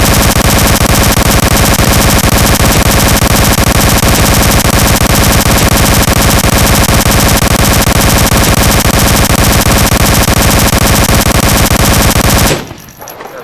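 Fully automatic gunfire in the VR video game Onward, a loud, unbroken stream of rapid shots holding steady for about twelve seconds before cutting off abruptly into near silence.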